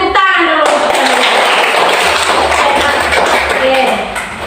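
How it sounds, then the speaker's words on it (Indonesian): Children in a classroom clap their hands for classmates, a dense burst of clapping that starts loud, holds steady, then trails off at the end. "kita tepuk tangan dulu untuk kalian"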